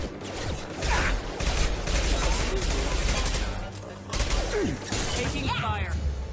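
Gunfire in the sci-fi shooter game Mass Effect 2: dense, continuous bursts of automatic weapon fire with mechanical clatter and whooshes, loud and close, with brief voice fragments mixed in.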